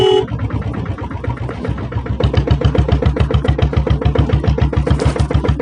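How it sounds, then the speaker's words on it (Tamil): A 7.5 HP diesel Bullet motorcycle idles close by, its silencer giving a steady, thumping exhaust beat that grows slightly louder and firmer partway through. "சைலன்சர் பீட் தான்."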